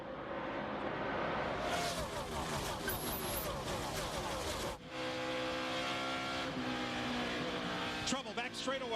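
NASCAR stock cars roar past on the track during the 2005 Golden Corral 500, engines surging and fading with sharp pass-bys and Doppler swoops, under a race commentator's talk.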